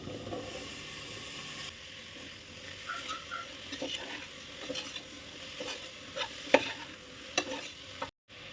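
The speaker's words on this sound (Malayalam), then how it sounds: "ഇനി ഇതിലേക്ക് കഴുകി വൃത്തിയാക്കി വെച്ചിരിക്കുന്ന മഷ്റൂം ചേർത്ത് കൊടുക്കുക." Washed mushrooms tipped into a hot pan for mushroom biryani and stirred, giving a close sizzle with scraping spoon strokes, soft patter and a few sharp clinks, no talk.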